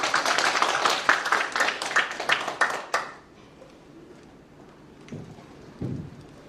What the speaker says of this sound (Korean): 박수로 맞이합니다.